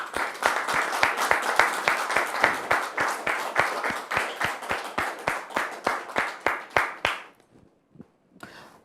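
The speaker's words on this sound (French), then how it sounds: "Merci de recevoir maintenant la sœur Aurélie sous vos applaudissements" An audience in a French talk-show studio claps in unison to welcome a guest: loud, regular rhythmic hand claps in a steady beat that stop abruptly, followed by a few faint scattered claps.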